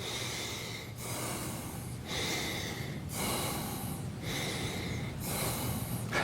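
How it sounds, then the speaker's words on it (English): Slow, connected breathing in and out, with a smooth, even rhythm of breaths about a second apart. It is close and audible, like a soft, airy hiss, and no one speaks. "when we connect our breathing and breathe in and out and in and out"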